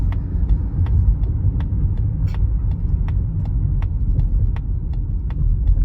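Steady low rumble of tires on pavement inside a moving 2024 Mazda CX-50, constant and fairly loud throughout with faint ticking thumps over the road surface and no voices.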